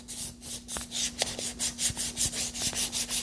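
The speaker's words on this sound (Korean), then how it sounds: "그럼 이 나무를 가지고 사포질을 할 건데요" Rhythmic rasping strokes of sandpaper on wood along the grain, back and forth about a dozen times, close and steady, with a faint constant hum underneath.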